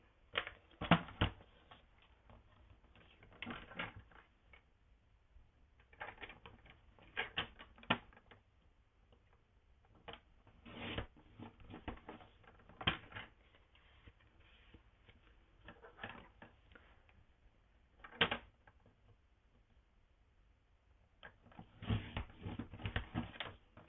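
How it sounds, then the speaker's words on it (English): Cardstock for a handmade greeting card is trimmed down on a paper trimmer, making faint, close ticking slides and sharp cutting clicks that come in scattered bursts with quiet gaps between them. "Let's just trim that down a little bit."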